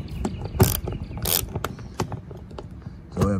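Ratchet with a 10 mm socket tightening a mud flap bolt on a Tesla, short bursts of clicking ratchet strokes with a few clunks and rustles, close and moderate in level.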